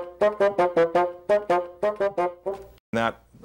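A bassoon plays The Sorcerer's Apprentice theme as a bouncy run of short, detached notes in a quick, even rhythm, ending with a brief pause and one fuller note. The playing is close, with no voices.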